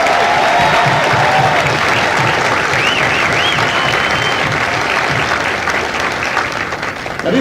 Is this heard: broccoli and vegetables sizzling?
no